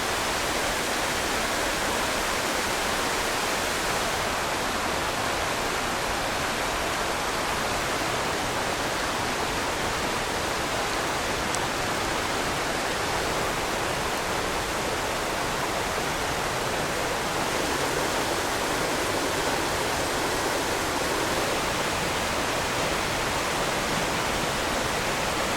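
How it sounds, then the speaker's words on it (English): River flowing beneath a forest canopy in the Great Smoky Mountains, a constant broadband rush of water that holds steady and alone throughout. "You got the river itself with the canopy above it."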